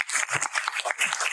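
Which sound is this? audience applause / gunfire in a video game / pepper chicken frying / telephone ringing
audience applause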